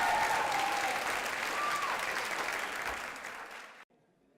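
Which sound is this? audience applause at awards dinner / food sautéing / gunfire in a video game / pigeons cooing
audience applause at awards dinner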